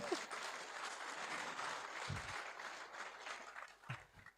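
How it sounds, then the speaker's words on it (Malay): Audience applause at an evening political gathering in Ipoh, Malaysia, a moderate, steady wash of clapping from a crowd lasting a few seconds, with a couple of low thumps near the microphone. "Boleh beri tepukan kepada diri anda semua."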